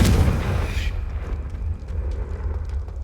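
Confringo explosive spell blast in the Hogwarts Legacy video game, a loud booming burst at the start followed by a rumbling low decay over a few seconds.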